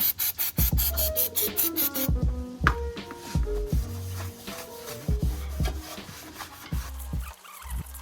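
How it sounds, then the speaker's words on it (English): A rag sprayed with brake cleaner scrubs the flywheel surface of a Nissan 240SX during a clutch kit install, with rhythmic close rubbing strokes and scattered knocks and thumps. "I'm just gonna clean up the surface of the flywheel with some brake clean"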